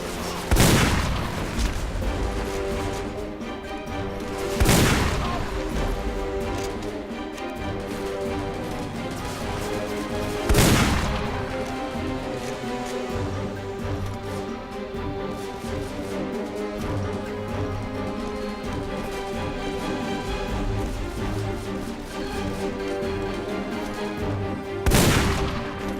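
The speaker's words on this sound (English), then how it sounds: "I'm under heavy fire!" Heavy gunfire and blasts in the shooter game Deadfall Adventures, with loud booming bursts recurring roughly every five seconds over a dense, steady musical backdrop.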